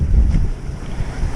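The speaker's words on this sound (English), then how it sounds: "And yes, it is blowing 30 knots, I think." Strong wind of about 30 knots over the open ocean off Maui during a downwind SUP foil run, a loud steady buffeting rush with low rumbling gusts battering the microphone, no voices.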